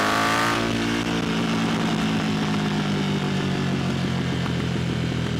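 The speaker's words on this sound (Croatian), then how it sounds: "Stvarno strašno snažan motor. Lip zvuk ima" A 2022 Harley-Davidson Pan America adventure motorcycle engine revs hard, opening with a sharp rising roar that settles into a loud, steady, throaty drone heard close up.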